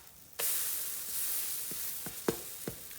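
A banana oatmeal pancake sizzles in a pan after being flipped, a soft steady hiss with a few sharp crackles and pops, close and quiet with no talking.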